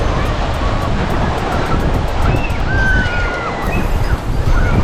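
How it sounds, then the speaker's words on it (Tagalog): Surf rolls steadily onto a tropical resort beach, a loud continuous wash of waves and wind with faint distant voices or whistles drifting over it. "Sarap pagmasdan yung mga alon."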